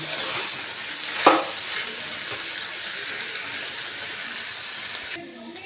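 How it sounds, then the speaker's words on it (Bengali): A small splash of water hits frying spices in a pan with one sharp burst, then settles into a continuous hissing sizzle and bubbling that holds steady and close, with no voices. "এরপরে আমি আমার আন্দাজ মতন আমি সামান্য জল দিয়ে দিচ্ছি"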